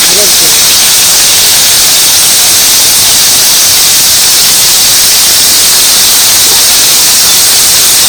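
Cauliflower frying in hot oil in a wok, a loud continuous sizzling hiss that stays constant throughout.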